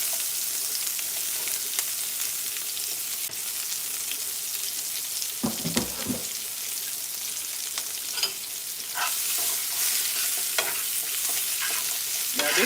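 Fresh garlic, red onions, green peppers and white onions fry in a pot, a continuous bright sizzle with scraping stirs and a few louder clatters midway, no talking.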